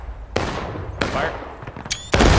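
Musket volleys fired in the Civil War game War of Rights, three loud, sharp, booming bursts in quick succession, each trailing off in a rolling echo, close by.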